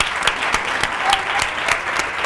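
Studio audience at a Catalan TV word game show gives a loud, steady burst of applause, dense clapping filling the whole moment without voices on top.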